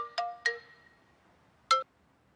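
Phone chimes three times, two close together and a third after a pause, each short and ringing with clear tones, in an otherwise quiet room.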